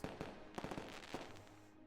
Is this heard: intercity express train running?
no